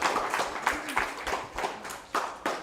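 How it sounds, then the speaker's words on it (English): A small audience at a primary school arts event claps in scattered, uneven bursts of close, sharp claps, with people's voices mixed in. "Big round of applause for that, I think,"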